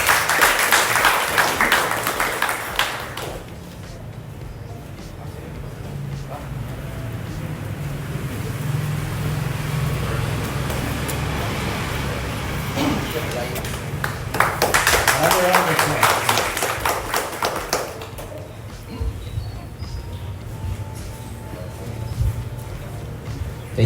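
An audience at a seminar on cybercrime prevention and data privacy breaks into a burst of applause, which fades into a quieter stretch of room noise and faint voices before a second round of clapping rises midway and dies down again.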